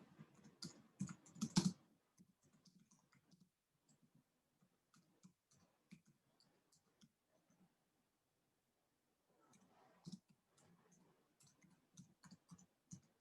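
Quick bursts of computer keyboard typing, close and crisp, with a stretch of quieter scattered key taps and a pause before the rapid typing resumes.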